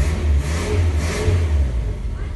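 An old gold Ford Del Rey car engine revs up and falls back, a steady mid-low roar close by with no talk over it.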